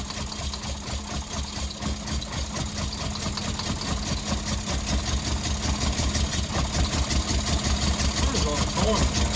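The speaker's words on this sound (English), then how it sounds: "That fuel pump has had it. It's making way too much noise." A Mk1 VW Golf GTI barn-find engine runs steadily with a failing, noisy fuel pump adding a mechanical whir and ticking over the idle, close and continuous, with voices talking over it.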